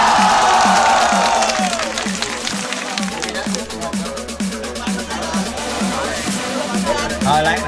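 A festival crowd at Drop Da Bass VI cheers and applauds, loud and close, with shouts and whoops over a steady thumping dance beat.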